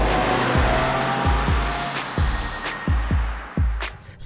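A 2026 Toyota Crown Nightshade's four-cylinder engine revs and pulls hard under full throttle, with repeated low surges as it accelerates, loud and close with a rough throaty note.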